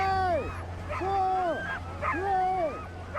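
Sled dogs in deep, soft snow on an Arctic trail, several close by giving rising, wavering whimpers and yips in repeated bursts about a second apart, with a steady low hum underneath.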